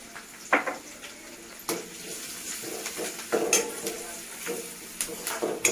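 Chole masala curry with turmeric added spluttering and sizzling in a pan, with intermittent sharp crackles and pops over a steady frying hiss, close and moderately loud.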